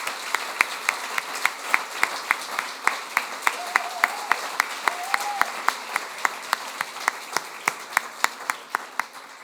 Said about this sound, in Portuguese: Eu queria uma grande salva de palmas para o nosso mandatário e para o nosso candidato.